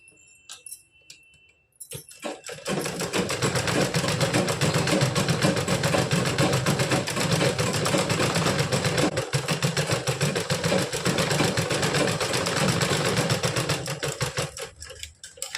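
A sewing machine stitching a blouse seam runs in one long, loud, rapid mechanical whir with a steady clattering rhythm, starting after a quiet moment and stopping just before the end, close to the mic with no talk.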